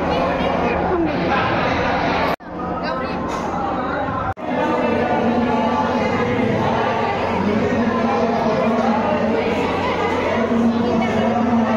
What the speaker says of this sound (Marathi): गर्दी आहे आणि तुम्ही अनुभवू शकता